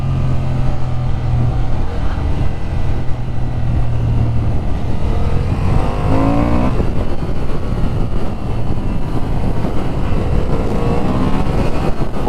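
A 2025 Honda Hornet 750 motorcycle accelerates hard, its engine a loud, steady drone with a rising rev sweep near the middle, heard close with wind rush and no talk.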